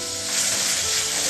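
Pork meat sizzling loudly in a saucepan over raised heat as it is stirred, a steady dense crackle of frying fat with faint scraping throughout.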